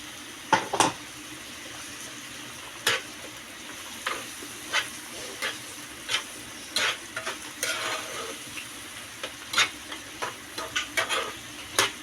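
A spoon scrapes and taps against a pan in an irregular rhythm while thick cashew curry sizzles softly underneath, with no one speaking.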